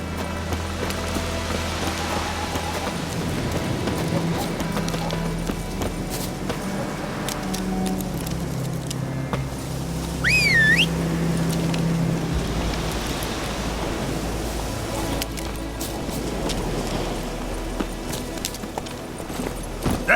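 A horse gallops across open country in The Witcher 3: Wild Hunt, its hoofbeats forming a steady, busy rumble blended with wind-like ambient noise for about twenty seconds, with a brief high chirp midway and no talking.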